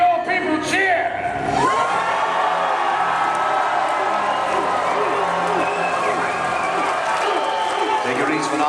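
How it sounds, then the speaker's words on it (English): A crowd cheers and whoops for Stormwind in a Blizzard medieval cinematic, a broad, sustained roar beneath a voice speaking. "Hear your people cheer"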